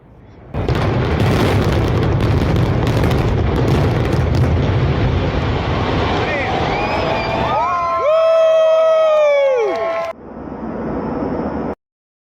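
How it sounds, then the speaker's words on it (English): A loud, sustained roaring blast of a building explosion and collapse, with crowd noise and shouting throughout, then a falling, whistling tone and a brief quieter rumble at the end. "Massive explosion erupts before spectators filming on their phones before the entire building collapses."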